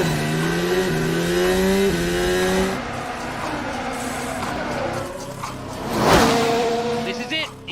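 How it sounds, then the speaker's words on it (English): Formula 1 engines howl through qualifying on the streets of Baku, a rising and falling high-pitched note with gear shifts, then a loud close roar sweeping past before fading into a quieter drone. "It's time for qualifying, an hour of flat-out driving on the streets of Baku."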